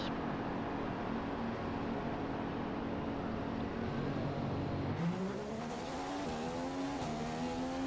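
Formula 1 race car engine in the F1 2015 racing game, a steady high-pitched drone that shifts midway into rising, stepped revs as the car pulls away, loud and continuous with no talk.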